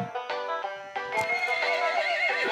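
A cartoon horse neighs in a stable, one loud, long, wavering whinny close up with a brief clop of hooves, heard alone.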